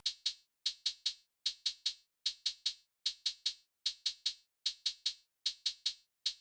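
Crisp closed hi-hat hits tick in quick groups of three repeated evenly, dry and isolated, forming a steady programmed pattern for a beat with nothing else playing.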